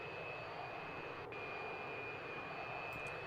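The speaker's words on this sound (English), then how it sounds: "now to the Su-33 taxiing to the runway, ready to begin its performance" A Su-33 jet taxiing toward the runway in a Roblox game, its engine a steady, even roar with a high whine on top, constant and unbroken throughout.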